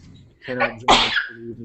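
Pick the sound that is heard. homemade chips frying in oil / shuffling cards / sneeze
sneeze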